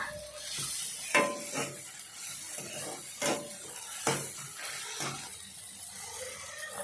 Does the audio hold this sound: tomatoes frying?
yes